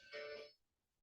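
A telephone rings once in a single short burst indoors during a mentoring session, fairly close, then stops and leaves quiet room tone.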